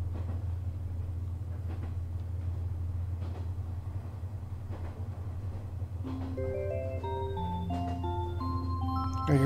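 Steady low rumble of a train rolling along a rail line in Yo-Kai Watch 2, running throughout, joined in the second half by a bright chiming tune of rising and falling notes over the continuous drone.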